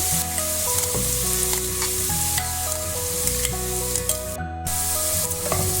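Onions sizzle steadily in a hot pan, with a constant crackling hiss under music that plays throughout.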